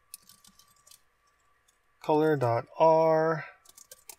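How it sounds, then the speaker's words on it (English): Light, quick clicks of typing on a computer keyboard while writing Godot 3 shader code, scattered at the start and end, with a spoken voice in between. "let me just type it all in here"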